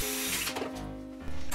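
A power drill whirs through the aluminium trailing edge and rib of an aircraft rudder, a close steady whine that dips briefly mid-way before surging again.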